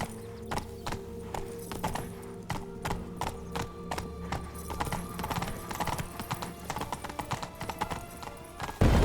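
Steady hoofbeats of a horse galloping in the video game The Witcher 3, with rapid rhythmic clip-clop close by, a few whinnies, and an abrupt loud burst at the very end.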